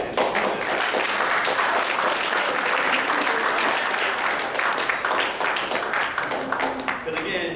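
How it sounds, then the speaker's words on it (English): Wrestlers' parents receive a big round of applause, loud sustained clapping from a crowd that continues evenly for several seconds before tapering slightly at the end. "your sons owe you guys a big round of applause for all the work you put in"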